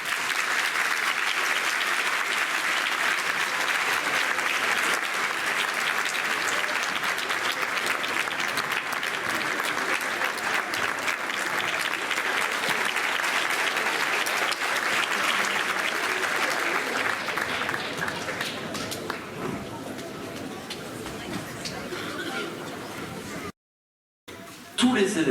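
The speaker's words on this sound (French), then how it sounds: "sous vos applaudissements" Sustained applause from a concert audience at a large trombone ensemble performance, a loud, steady wash of clapping that runs for over twenty seconds before thinning out near the end.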